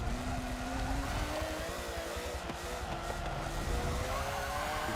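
A McLaren race car's engine in Forza 7 GT racing drones steadily and loudly, with a rising pitch as it accelerates through the full stretch and no speech over it.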